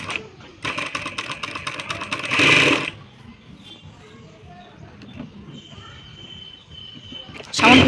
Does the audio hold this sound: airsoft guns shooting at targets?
no